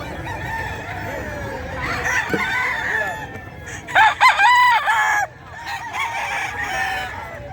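Hens and roosters at a busy chicken and pet market in Bocaue, crowing and clucking close by in bursts, with one loud run of crowing in the middle, over steady crowd noise and a little background talk.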